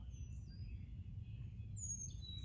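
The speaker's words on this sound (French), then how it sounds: "Est-ce que c'est pour entendre les oiseaux et leurs beaux chants qu'on entend en ce moment?" A few birds sing faint, thin whistled phrases in the distance over a low steady background rumble.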